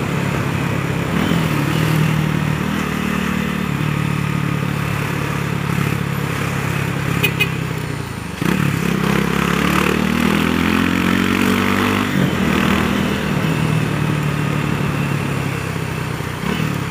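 A motorcycle engine drones steadily and loudly on the Minhocão elevated road (Elevado Costa e Silva), rising in pitch as it accelerates, with a brief dip before revving up again, heard close up with road and wind noise.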